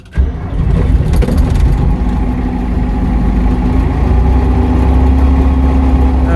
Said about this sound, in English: that's a sweet sounding diesel when it's hot